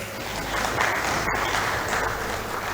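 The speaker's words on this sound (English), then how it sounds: "Can you clap for the first panel?" An audience at a high-level dialogue forum applauds the first panel, a steady, dense wash of clapping from a crowd, moderately loud and continuous with no talk over it.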